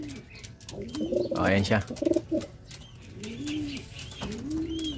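A racing pigeon just home from a sprint derby race coos in soft, repeated low calls at close range, while someone speaks briefly over the bird sounds.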